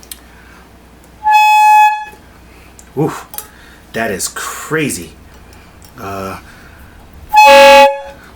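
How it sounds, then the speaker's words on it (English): A car air horn is blown into by mouth and gives two short, loud, brassy honks near the start and the end. Someone speaks between the blasts, and there are faint clatters in the background. "I'm just gonna plug this up to this real quick and blow into it just to kind of get a idea of what the horn actually sounds like"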